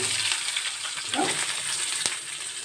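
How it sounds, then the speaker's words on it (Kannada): Mustard seeds, cumin, chana dal, moong dal and onion fry in hot cooking oil for a buttermilk tambuli, giving a steady, close hiss of sizzling with faint crackles and one sharp pop near the end. "ಎಣ್ಣೆ ಬಿಸಿ ಆದಮೇಲೆ ಸಾಸಿವೆ ಮತ್ತು ಜೀರಿಗೆ ಕಾಲು ಕಾಲು ಟೀ ಸ್ಪೂನ್ ಅಷ್ಟು ಹಾಕೊತಾ ಇದ್ದೀನಿ"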